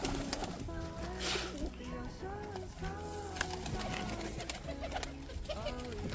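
Domestic pigeons coo in a home loft, with rolling, repeated low calls from several birds close by and someone speaking over them.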